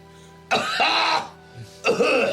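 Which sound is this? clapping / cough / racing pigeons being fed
cough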